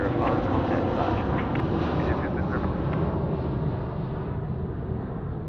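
A Boeing 717 jet takes off at Sydney Airport with a loud, broad engine roar that dominates the whole stretch, then slowly fades as the aircraft pulls away.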